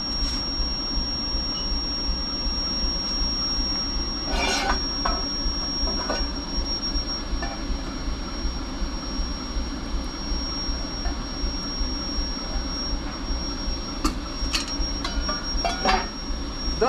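A waste-oil burner for a Kiturami boiler runs with a steady, loud low roar and rumble, broken by a few brief crackles and pops, with no talking.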